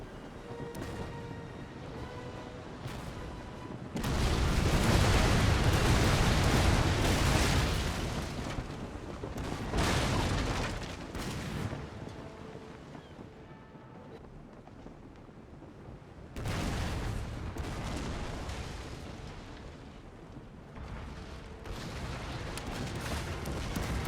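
Naval cannon volleys from sailing warships in the strategy game Napoleon: Total War, heavy rolling booms that burst in loud waves, then fade into rumbling gaps before another barrage thunders in.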